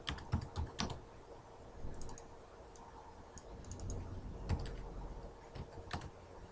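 Quiet, irregular keystrokes on a computer keyboard, with clusters of quick taps and a few sharper clicks spread over several seconds, soft and close with no speech.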